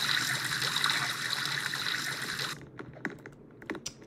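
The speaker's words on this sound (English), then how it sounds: "I need to go and actually get a shower real quick" Shower water running in the Roblox Brookhaven game, a steady hissing spray for about two and a half seconds that cuts off abruptly, followed by faint clicking keyboard sounds.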